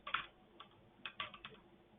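Dates typed on a computer keyboard in a dashboard form: quiet, light key clicks in short bursts and single taps, close and isolated with no talk.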